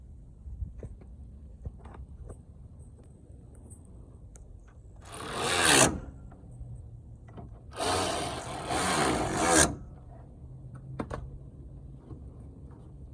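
Ratchet tightening 10mm bolts on the AC condenser of a 2017 Toyota Corolla, heard as two bursts of rapid clicking, one short and one longer, close up with light handling noises between and no talk.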